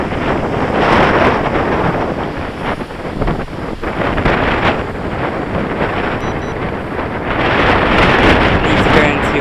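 Strong wind roars and buffets the microphone without a break while a small Eachine H8 Mini quadcopter drone is flown outdoors on a blustery day. The rumble is loud and steady throughout.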